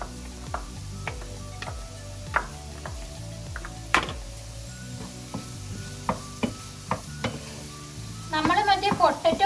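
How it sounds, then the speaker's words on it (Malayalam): Chopped ginger, garlic, green chili and curry leaves fry in a pan with a steady sizzle and occasional sharp stirring clicks, set under continuous background music; the frying grows busier near the end. "ഇതിലേക്ക് നമുക്ക് അരിഞ്ഞു വച്ചേക്കണ ഇഞ്ചി വെളുത്തുള്ളി പച്ചമുളക് അതുപോലെ തന്നെ കറിവേപ്പില ഇതും ഇട്ട് കൊടുക്കാം"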